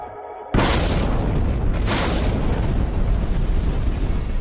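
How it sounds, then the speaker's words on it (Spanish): An explosion at Chernobyl reactor number 4 is rendered as a sudden massive boom after a brief quiet, followed by a second surge and a long, loud, roaring rumble. "Se produjo una explosión"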